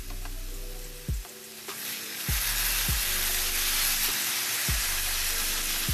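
Oil sizzling in a frying pan while cooking creamy Tuscan chicken, the hiss swelling louder partway through, with several distinct pops and low knocks over a constant background hum.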